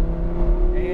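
Audi R8 V10 accelerating on a race track, its engine a steady loud drone with rising harmonics close by, a higher whine building near the end.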